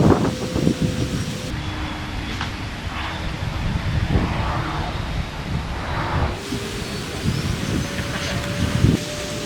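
Strong gusts buffet an outdoor microphone at an RC flying field on a very windy day, a continuous low rumbling roar with shifting swells and occasional thumps throughout, no voices.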